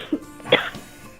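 A woman with a scratchy throat gives a couple of short, close coughs in a quiet room during a guided session.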